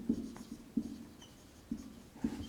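A pen or marker writes a maths expression during a lesson, making soft, close, sparse tapping and scratching strokes with quiet pauses between marks.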